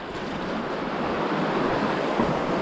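Ocean surf washing over a sandstone shore, a loud continuous rushing wash mixed with wind buffeting the microphone, no speech.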